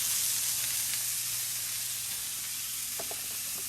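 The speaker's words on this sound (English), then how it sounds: "I have a good amount of oil. It's helping create a sear, especially right here." Sirloin steak sears in a generous amount of hot oil in a pan, giving a steady, continuous sizzle and hiss with a few faint clinks near the end.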